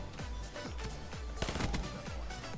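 Burst-fire rifle in a Call of Duty multiplayer match firing rapid clustered shots, repeated bursts crackling loudly against background battle noise.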